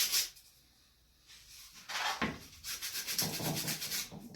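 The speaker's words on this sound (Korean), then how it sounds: "보통 제일 많이 쓰는 게 이제 사포" Sandpaper rubs over wood to remove glue residue, a close raspy scraping in rhythmic strokes that start after a short pause and grow steady and continuous.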